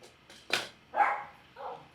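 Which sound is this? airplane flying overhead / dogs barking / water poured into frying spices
dogs barking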